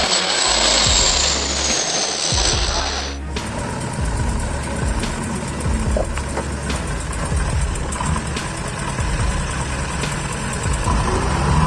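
Water bomber aircraft engine droning over the remote Trans-Labrador Highway, a loud, steady roar with a whine fading early on, then a continuous rumbling engine bed.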